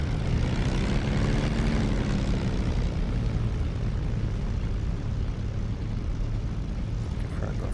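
Propeller aircraft engines idling and running up in the DCS flight simulator game, a loud, continuous low drone with a steady throbbing hum that holds throughout without a break.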